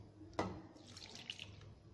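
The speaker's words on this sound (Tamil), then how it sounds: "குழம்புக்கு தேவையான அளவு தண்ணி சேர்த்துக்கோங்க" Water splashes briefly into a pot of oil-based brinjal curry, a short faint pour after a small knock.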